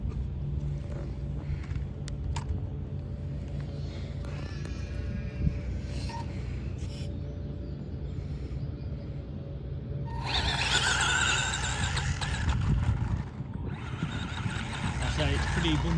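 A Tamiya BearHawk radio-controlled car is let loose on bumpy ground, its motor breaking into a loud rushing whine partway through after a stretch of quieter background noise and a talking voice.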